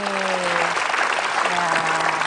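A studio audience at an Indonesian television talk show bursts into steady, dense applause that continues throughout, with a voice briefly sounding beneath the clapping.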